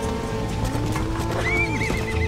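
A horse near a herd of cows gives a loud, wavering whinny that rises and trembles for about half a second, over dense, noisy outdoor background.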